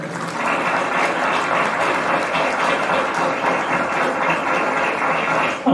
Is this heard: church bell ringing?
no